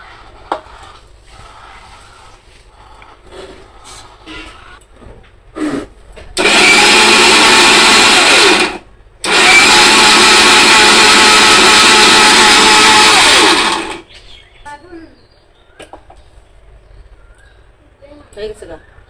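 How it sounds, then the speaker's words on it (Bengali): Kitchen blender grinding ginger, garlic, onion and green chillies in two loud, steady whirring runs of several seconds each, separated by a short pause, with someone talking quietly before and after. "ভাবছি যে কাঁচামরিচও একসাথে ব্লেন্ড করে ফেলি।"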